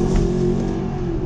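A Mercedes SLS AMG engine revs hard under acceleration, a loud, steady, close rumbling drone with dense low harmonics that holds through the whole short burst.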